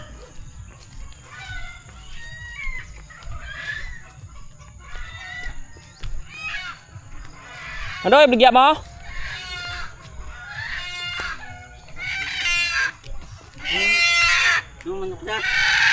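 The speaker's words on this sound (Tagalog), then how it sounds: "Parang nagwawala yung ating mga chicken" Chickens in a yard clucking and squawking excitedly, with loud bursts of agitated calls among other farm animal bleats, while people talk nearby.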